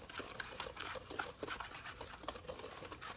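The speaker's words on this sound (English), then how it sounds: "I'm just going to use my whisk here." A whisk stirs the dry ingredients for an apple crisp in a bowl, making a quiet, rapid, rhythmic scratching and patter close by, faint and continuous.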